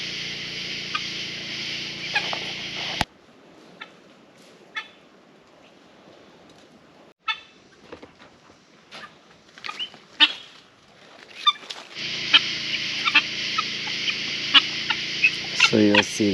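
Guinea fowl on a homestead raise bursts of loud, harsh, repeated calling near at hand, dropping to scattered quieter chirps in the middle before the noisy flock chorus returns strongly.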